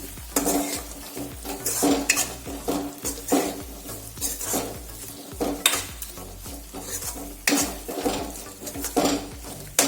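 A spoon stirs spice mix into cut okra for bharela bhinda shaak in a pan, with close clattering scrapes against the metal and a light sizzle underneath, in an uneven steady rhythm and without talking.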